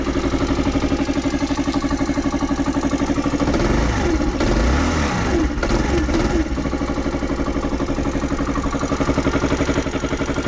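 A Daelim Roadwin 125 motorcycle engine idles steadily up close, with a rapid, even putter throughout and a brief rough swell in the middle.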